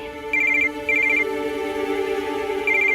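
An indoor telephone rings in a domestic setting, giving repeated bright bursts of electronic trilling in a regular pattern, loud and close, with no talk over it.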